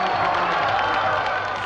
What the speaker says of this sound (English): they set aside their disappointment and sit in the grandstands, cheering on the semifinalists